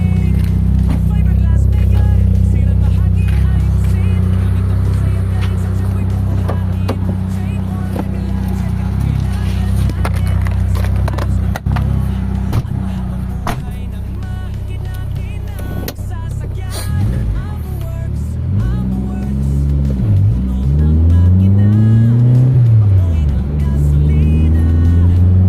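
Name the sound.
Mitsubishi Lancer car test drive after engine overhaul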